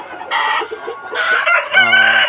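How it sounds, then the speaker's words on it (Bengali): Loud, close clucking and squawking from Sonali and Tiger breeder chickens in a poultry shed, with several overlapping calls in quick succession and one rising into a crow. "আমার এই শেডে আপনার তেরোশো মুরগি আছে"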